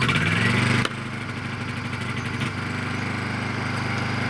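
A small inverter generator, a Honda EU20i or Yamaha EF2400iS, starting and running. A loud rough burst at the start drops into a steady, buzzing idle that continues evenly to the end.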